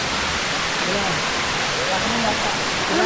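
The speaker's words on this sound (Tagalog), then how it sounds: "Itong napakagandang falls na yan na aming tinatahak ay Gabur Gabur Falls in Peña Blanca," Gabur-Gabur Falls in Peña Blanca, Cagayan pours in a dense, steady broadband rush of falling water heard up close, with a person talking faintly beneath the roar.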